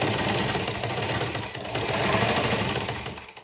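Sewing machine running steadily while stitching a seam along the lining of a school pencil case, a fast close rhythmic whirring and clatter that slows and stops at the end.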